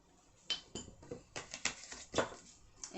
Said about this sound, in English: And just give it a mix.